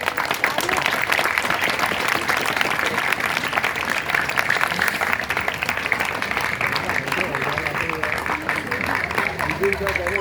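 Steady, dense applause from a large crowd at a formal ceremony, sustained and even throughout without a break.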